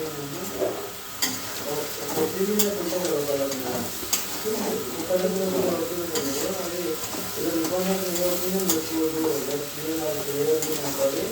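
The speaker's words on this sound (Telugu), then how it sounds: "కొబ్బరి పౌడర్ వేసుకుందాం. ఒకసారి తిప్పుకుందాం." Tindora fry with coconut powder stirred in a pan, a soft sizzle under repeated scraping strokes of a spatula, with someone talking over it at moments.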